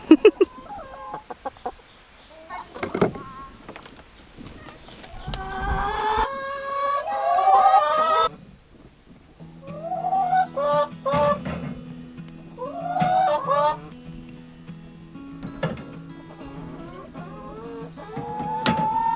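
Several chickens cluck and squawk close by on a farm, one call rising into a drawn-out cackle, with a low steady hum underneath and no talking.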